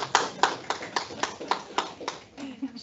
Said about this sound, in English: She will be happy to have received an applause.